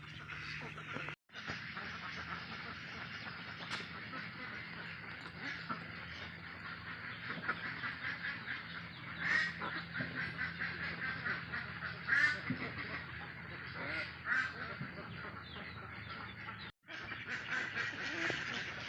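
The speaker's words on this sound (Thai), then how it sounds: "วันนี้พามาดู ลูกเป็ดที่ลองทดลองฟักลองดูก่อนครับ" Many small Yi Liang ducklings peeping and quacking together in a continuous chorus, fairly close, with a few louder calls standing out and faint background noise.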